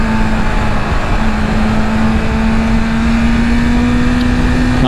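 A 2023 BMW S1000RR motorcycle engine holds a loud, steady high-rev whine that climbs slowly in pitch as it accelerates, heard close up, with no clear gear change.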